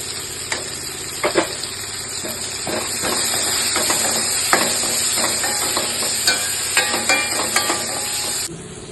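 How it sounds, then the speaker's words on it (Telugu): Onions and tomato frying in a pan for a curry, a steady close sizzle and hiss lasting several seconds, broken by scattered clicks and taps of a spoon stirring against the pan, with no voices. "ఉల్లిగడ్డలు వేగినాక టమాటా వేసుకోవాలి."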